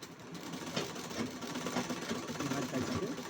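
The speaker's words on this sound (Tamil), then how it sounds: "இந்த மாதிரி தைச்சிட்டு" A sewing machine stitches a folded hem on a blouse in a short, steady run of rapid mechanical whirring and clatter at moderate volume, with faint background noise.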